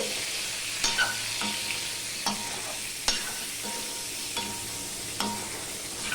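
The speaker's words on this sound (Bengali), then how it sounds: "এবার সম্পূর্ণটা আমি মিশিয়ে নিচ্ছি" A spoon stirs pointed gourd (potol) with turmeric in a sizzling pan, steady frying hiss throughout with a few sharp scrapes and clinks at irregular intervals.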